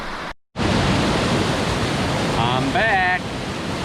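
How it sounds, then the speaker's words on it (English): Stone Mountain Falls in North Carolina roars as a loud, constant broadband rush at close range, with a brief dropout near the start and a person speaking over the water. "I'm at the bottom of Stone Mountain Falls."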